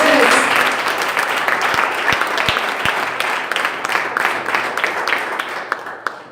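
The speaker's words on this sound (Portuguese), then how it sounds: "Você pode aplaudir a Jesus?" A congregation at a Portuguese-language church service applauds: loud, thick clapping from many hands that starts at full strength, then slowly thins and fades, with sharp individual claps standing out near the end.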